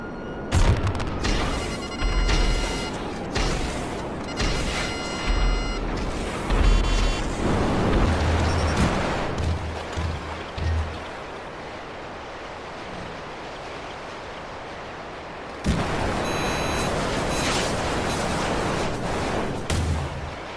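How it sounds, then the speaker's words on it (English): Deluxo missiles and explosions in GTA Online freemode combat: repeated booming blasts and rushing roars over a steady wash of background noise, with a sudden loud burst near the end, and no voices. "Eventually his friend showed up with a Deluxo and started shooting missiles at me."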